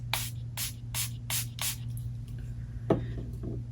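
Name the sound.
spraying Milani Make It Last setting spray onto brush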